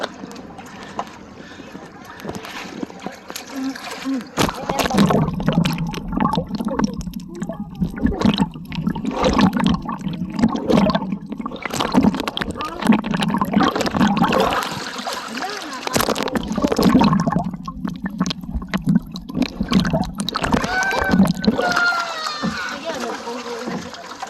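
Waves splash and slosh against a small boat while island hopping off Bohol, Philippines, with washing water bursts through most of the stretch as people talk over it.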